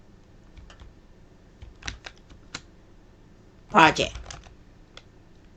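Short bursts of keystrokes on a computer keyboard while a first Python program is entered in a class demonstration, soft clicks scattered between speech, with one louder cluster of taps near the middle.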